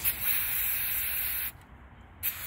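Brake cleaner sprays from a can onto tools to remove roofing wet patch sealant, giving a close, steady hiss that breaks off briefly and resumes with a short burst.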